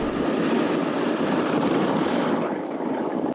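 A ski lift at a small ski slope runs up to speed with a dense, steady mechanical roar and rushing noise that stays loud and even throughout, with no talk.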